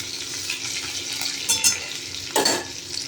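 Steady sizzle of five-spice seeds and garlic frying in oil, with a couple of brief louder bursts of crackle and scraping partway through; no voices.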